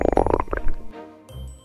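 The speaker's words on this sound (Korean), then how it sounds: "입맛은 없는데 배에서 꼬르륵 소리가 나네?" A hungry stomach growls in a loud, bubbling gurgle with rapid pulses, then trails off into a few lower, softer rumbles; no talking is heard.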